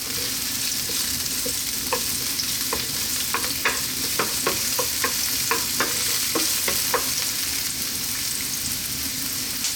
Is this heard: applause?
no